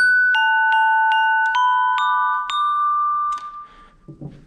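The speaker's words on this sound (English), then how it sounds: "Glockenspiel." Commercial jingle tapped out on a glockenspiel: a quick run of seven or so bright, high metal-bar notes in a steady rhythm, each ringing briefly, followed by a soft rustle as it ends.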